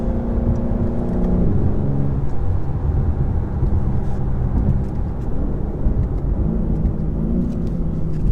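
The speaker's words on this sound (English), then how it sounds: "But listen to those gear changes." A 2023 BMW M4 Competition xDrive engine pulls hard from inside the cabin, its rising tone dropping sharply at each quick gear change before climbing again, loud and continuous.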